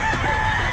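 A rooster at a pet market gives a brief, nasal crowing call, close by and fairly loud.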